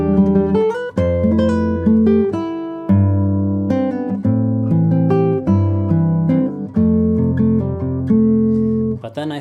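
Solo acoustic guitar passage from an original composition, built over a low G bass with fingerpicked melodic notes and chords ringing in a flowing, rhythmic pattern for several seconds. Close and clear with no speech.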